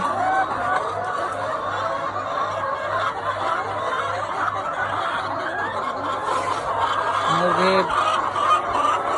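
A flock of laying hens clucks and cackles continuously at close range, a dense and steady chatter of overlapping calls with no talking.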